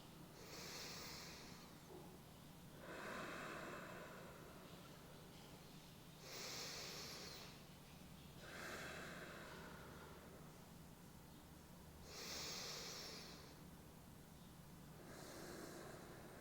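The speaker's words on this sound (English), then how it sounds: "Breathing here, just a few breaths." Slow, steady breaths during a restorative full-body stretch, each inhale and exhale drawn out and soft, recurring roughly every three seconds over a low steady background hum.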